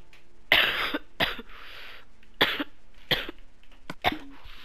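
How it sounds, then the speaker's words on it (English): A series of harsh, close coughs in quick succession, about six bursts with short pauses between them. "Coughing spree. I hate that."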